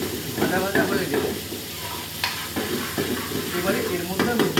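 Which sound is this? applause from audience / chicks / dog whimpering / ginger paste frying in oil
ginger paste frying in oil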